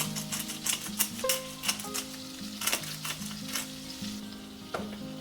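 Shrimp fry in butter with a soft continuous sizzle and crackle, punctuated by repeated utensil taps and scrapes against the pan, fairly quiet and close.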